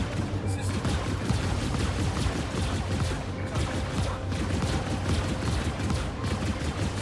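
Sustained rapid gunfire from a ship-mounted gun in the space game Star Citizen, a dense continuous rattle held for several seconds without a break, fairly loud and steady, with faint background talk.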